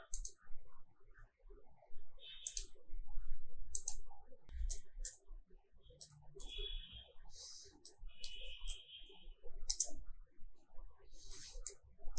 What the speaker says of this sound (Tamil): அந்த யூனிவர்சிட்டியோட அட்ரஸை ஆங்கிலத்திலையும் தமிழ்லையும் டைப் பண்றேன்